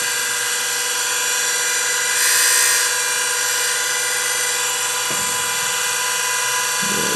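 A coated lathe tool insert is ground for a swivel toolholder, giving a loud, steady high-pitched whine with a rich set of overtones that holds for several seconds, with a slight change in pitch near the end.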